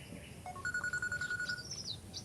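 A short electronic ring tone chirps in a repeated pulsing pattern, fairly faint, over a low room hum with no talking.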